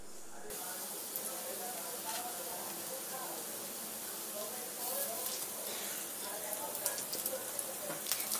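Jackfruit pakoras fry in hot oil with a steady close sizzle and hiss that swells slightly toward the end, while someone talks over it.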